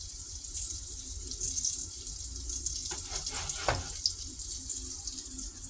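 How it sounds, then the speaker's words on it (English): Green tomatoes frying in a pan give a steady, fairly quiet hiss of sizzling oil throughout, with a few brief scrapes or clatters near the middle. No one speaks. "They're starting to fry up good."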